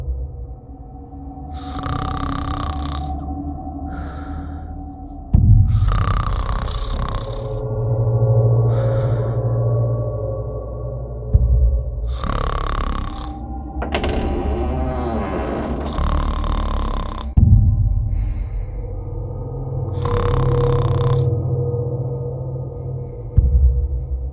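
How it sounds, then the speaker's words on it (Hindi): Heavy, slow breathing in a 2D animated Hindi horror story, long drawn breaths and gasps repeating at a steady rhythm over a low droning ambient score. "मैं भारी सांसों की आवाज सुनकर उठ गया।"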